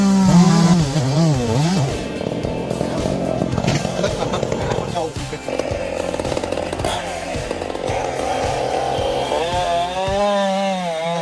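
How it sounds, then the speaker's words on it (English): A heavy-duty chainsaw cuts into a massive spruce tree about 150 feet tall, its engine revving and bogging in rising and falling waves, loud and close, with a voice talking over it. "this guy's taking down a massive spruce tree, approximately 150 feet tall, using a heavy-duty chainsaw"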